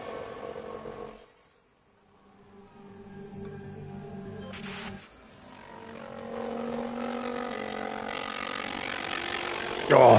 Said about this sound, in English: Oh, that engine sounds awful